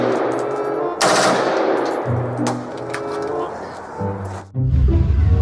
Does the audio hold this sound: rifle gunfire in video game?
yes